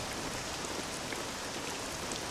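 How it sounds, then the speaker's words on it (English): Steady rain pours down in Dragon Quest VII Reimagined, a dense, even hiss of drops with no voices, holding at moderate loudness throughout. "This accursed rain will chill ye to the bone."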